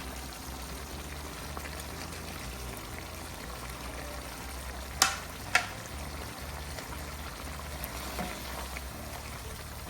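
Peshawari charsi chicken karahi with green chilies and tomatoes fries on high heat in a steady, even sizzle, broken by two sharp clicks of a utensil against the pan midway.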